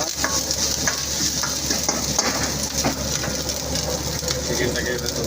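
Curry leaves crackle and sizzle in hot oil with ginger-garlic paste for South Indian chicken sukka, a steady close frying hiss with scattered pops and stirring scrapes throughout.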